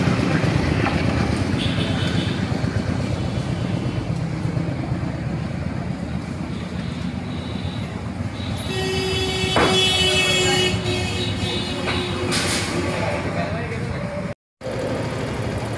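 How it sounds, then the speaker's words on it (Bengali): Yamaha FZ motorcycle engine idling steadily after repair work on its timing chain, piston rings and valves, a continuous low running hum with a workshop voice talking over it. "গাড়িটা এখন ইঞ্জিন স্টার্ট হয়ে গেছে।"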